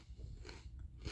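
Numb and spicy hot pot Lay's potato chips crunch in a mouth in a quick burst of close, faint crisp bites and chewing, with no talking.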